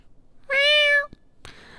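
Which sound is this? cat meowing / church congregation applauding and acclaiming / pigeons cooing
cat meowing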